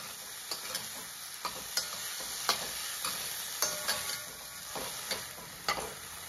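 Chickpea dal tempering for a no-onion, no-garlic usal sizzles steadily in a pan, punctuated by sharp spoon taps and scrapes of stirring at an uneven rhythm, close and fairly quiet with no talking.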